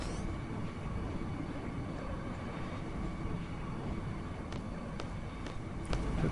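A train in the Final Fantasy VIII video game rumbles steadily along the rails, a continuous low droning roll with faint rhythmic clacks, loud and even throughout with no voices.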